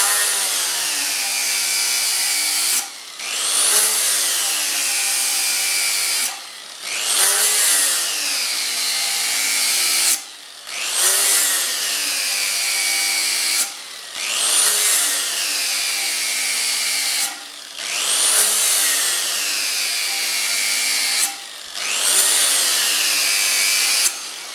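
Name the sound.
grinder sharpening lawn mower blade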